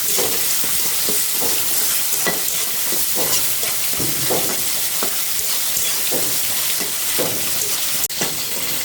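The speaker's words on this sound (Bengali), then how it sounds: "আমার পেঁয়াজটা ভাজা ভাজা হয়ে গেছে এখন আমি শাকটা দিয়ে দিব" Greens stir-fried in a pan with fried onions, garlic and chili hiss in a steady, close sizzle. A spatula scrapes through them in regular strokes about once a second.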